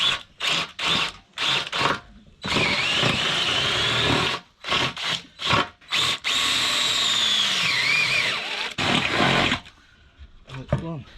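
A power drill bores out spot welds in a car shell with repeated short bursts and longer whining runs that rise and fall in pitch, loud and close, with a voice speaking between passes.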